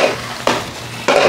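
Stuffing is pressed into the cavity of a raw chicken in a kitchen, two short squishy, rustling pushes close by with a quiet pause between them.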